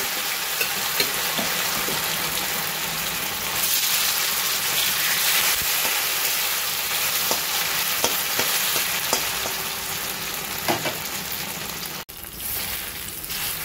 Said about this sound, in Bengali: এবার আমি কর্নগুলোকে অল্প অল্প করে ভেজে নেব।